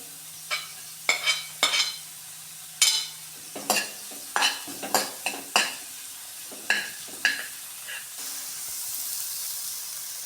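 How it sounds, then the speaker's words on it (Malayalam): Sliced onions and green chillies being sautéed in a pan: a spoon scrapes and clinks in a dozen separate stirring strokes over a soft sizzle, then a gentle steady hiss takes over at the end. "നന്നായി ആ ഉള്ളി ഒന്ന് വഴറ്റി കൊടുക്കാം. പച്ചമുളക്,"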